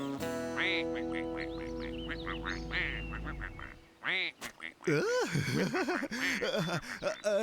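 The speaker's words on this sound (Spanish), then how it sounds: "estos patos son de una especie muy extraña" Cartoon ducks of an odd species quack in a rapid, bouncy series over a musical backdrop, then squawk loudly and excitedly at close range.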